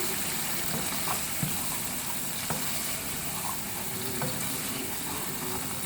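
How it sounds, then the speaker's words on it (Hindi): Steady frying sizzle with crackling pops, continuous and close, as masala gravy for chicken kofta curry cooks in a hot pan, with occasional stirring clinks and no voices. "अब हम भूनेंगे।"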